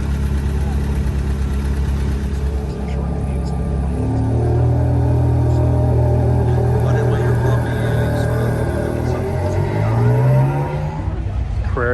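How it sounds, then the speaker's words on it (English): A Porsche Carrera GT with its wing up pulls away during a winter supercar drive in Greenwich, its engine note building and rising toward the end, with other cars audible around it and people talking nearby. "Carrera GT is leaving."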